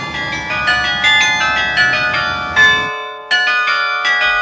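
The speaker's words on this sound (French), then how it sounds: "le carillon est un instrument qu'on écoute à une certaine distance" Carillon bells ring out in loud, overlapping melodic strikes with long ringing decay, pausing briefly before another cluster of tones resumes.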